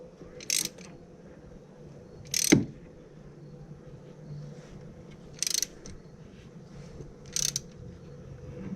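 A brass oil line fitting is tightened into the back of a steel engine block, giving a few sharp, isolated metallic clicks spaced a couple of seconds apart over a low, steady background hum, with no talking.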